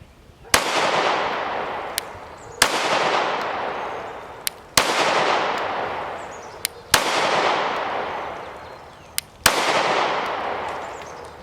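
Five sharp, loud shots from an Arex Delta M Gen 2 pistol at a shooting range crack out about two seconds apart, each followed by a long echoing decay, with faint clicks between shots.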